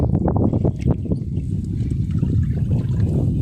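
Water laps and gurgles against a small boat on a wetland lake under steady, strong wind buffeting, a close, continuous low rumble with no clear talking.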